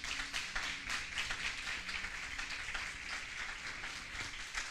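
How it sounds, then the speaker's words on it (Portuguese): Church congregation applauding together, a dense steady wash of clapping from many hands lasting throughout without a break. "Vamos aplaudir a palavra de Deus"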